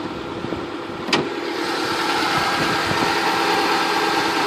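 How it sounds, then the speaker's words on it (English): A 2006 Subaru Legacy 2.5i Limited boxer engine idles with a steady, even hum, with a brief sharp click near the start. "Typical Subaru Boxer engine."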